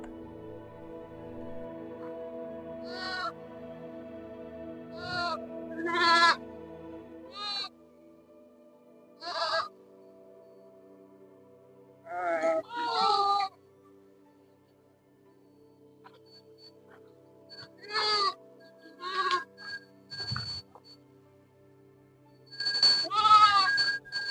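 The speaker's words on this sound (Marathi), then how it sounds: "बाहेरील भागातील मेंढपाळ सुद्धा अशा वातावरणात आपल्या मेंढ्या घेऊन या घाटाच्या दिशेने वाटचाल करतात" A flock of sheep driven by shepherds toward a ghat in the rainy season gives repeated bleats, some close and loud, others fainter, in separate bursts with quiet gaps between.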